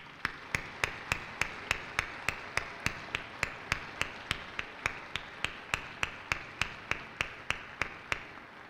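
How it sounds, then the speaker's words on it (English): Applause for veterans at a high school Veterans Day assembly, heard as steady, evenly spaced claps, about three per second, sharp and nearby, continuing for several seconds without speech. "Let's give them a round of applause."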